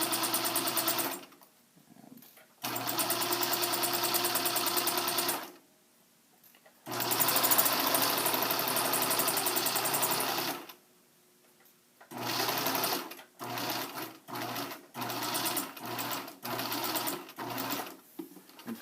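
A domestic sewing machine running in long steady bursts while stitching a French seam, then a series of short start-stop runs near the end, loud and close with no talk.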